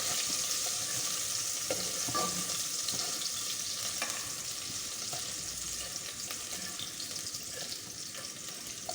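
Onions browning in hot oil for Afghani Kabuli pulao, a steady broad sizzle and crackle that stays level throughout, close and alone with no talk.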